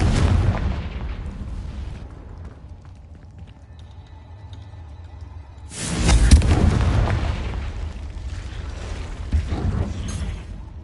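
A Confringo fire spell from Hogwarts Legacy bursts with a loud, broadband boom about halfway through, after rumbling mechanical creaks, then a rough, crackling roar trails off to the end.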